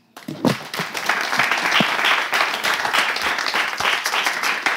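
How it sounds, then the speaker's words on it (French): An audience claps for a contestant at a live talent show, starting abruptly after a moment of quiet and continuing as a lively, fairly close wash of hands with a few distinct sharp claps. "On va vous accompagner avec des applaudissements."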